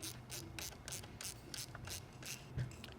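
A hand ratchet clicks in a quick, even series as it tightens a nut over a washer and lock washer on a battery mount, close and fairly quiet.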